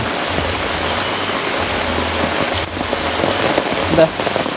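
Loud, continuous rushing floodwater from sudden heavy rain, with a dense spattering texture, heavy flow pouring steadily close by, with a brief louder splash near the end.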